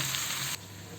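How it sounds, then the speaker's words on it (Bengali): Chopped onions with salt frying in a pan for a shrimp bhuna, giving a steady close hiss that drops abruptly to a softer sizzle partway through. "দিয়ে আমি পেঁয়াজটাকে একটু ভেজে নেব"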